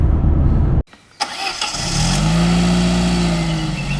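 A loud rumble cuts out, then the engine of an old Peugeot 605 pulled from a field cranks, catches and revs up before settling into a loud, steady running rumble.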